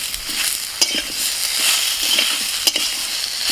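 Tomatoes fry in hot oil in a pan alongside potato and vegetable stems, giving a close, bright sizzle broken by a couple of sharp stirring clicks.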